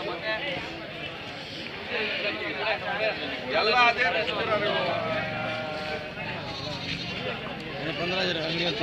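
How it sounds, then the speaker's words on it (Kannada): Goats bleat repeatedly at a busy, noisy livestock market with people chattering throughout, the bleats rising over the murmur now and then. "ಆಡುಗಳು ಜಾಸ್ತಿ ಬಂದವೆ."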